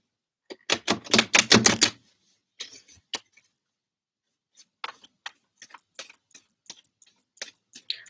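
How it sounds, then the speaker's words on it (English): Tarot cards are riffle-shuffled in a quick burst of rapid clicks, followed by sparse taps and flicks as the deck is handled. "Let's keep shuffling, shall we?"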